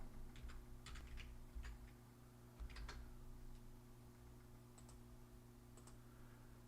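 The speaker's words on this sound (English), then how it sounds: "I can hear the clicking. I can hear me typing." Computer keyboard typing picked up by a sensitive microphone at a desk, with scattered clicky keystrokes in short bursts over a steady low electrical hum, fairly faint and close.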